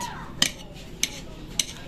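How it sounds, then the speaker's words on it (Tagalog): A knife slices through Eden cheese, giving three faint, evenly spaced clicks on a hard surface against quiet room background. "hinihiwa na po ni Mama yung ating Eden cheese"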